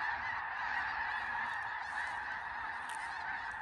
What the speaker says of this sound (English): That's all birds.